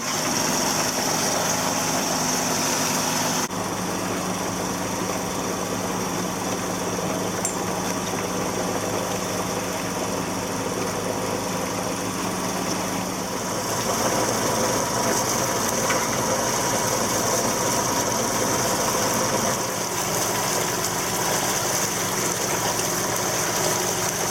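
The engine of a sailboat under power drones steadily through the Chesapeake and Delaware Canal, a continuous mechanical hum with rattling tones that shifts slightly in pitch a few times, and no voices.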